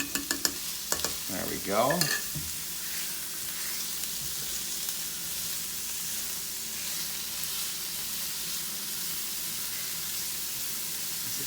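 Garlic sizzles in a hot pan as it is stirred: a short burst of spatula scraping near the start, then a steady, even hiss of frying that holds to the end. A voice speaks briefly at the beginning.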